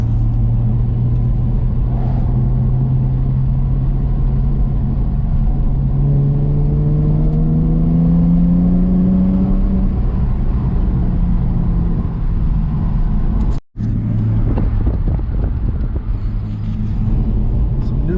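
A Nissan 300ZX drives with a steady low exhaust rumble that rises in pitch as it accelerates, then a brief dropout and the engine continues cruising.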